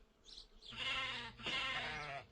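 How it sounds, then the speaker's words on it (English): A single sheep gives two wavering bleats in quick succession, close and clear with nothing else around it. "Here is a sheep."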